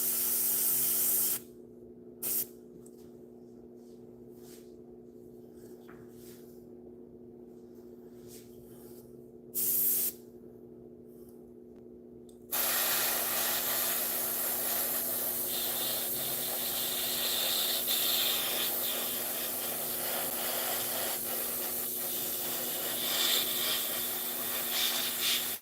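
Airbrush spraying paint onto model tanks, a steady breathy hiss coming in short bursts early on, then running continuously and loudly for the second half over a faint background hum.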